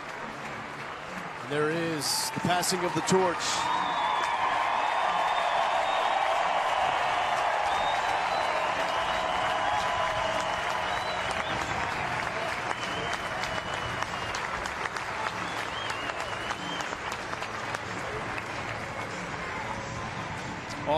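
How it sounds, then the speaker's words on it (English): A home crowd at a 2018 NCAA baseball tournament regional game in Lubbock gives a long, loud ovation of sustained applause and cheering, with a commentator talking over it. "he will get an outstanding ovation from this home crowd"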